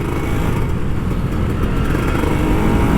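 An old Kawasaki Ninja RR 150 motorcycle, recently crashed, runs up close with a loud, steady engine drone that holds throughout with no voices over it.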